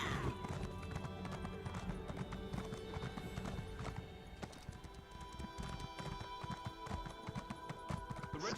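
Horse in The Elder Scrolls Online trots with continuous clip-clopping hooves, rhythmic and up close, with a whinny over in-game ambience.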